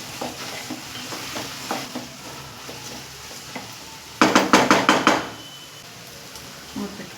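A spoon stirs curry with turmeric and chilli powder in a sizzling pan, scraping and clinking in several sharp strokes, with a quick burst of rapid stirring midway over a quiet background of frying.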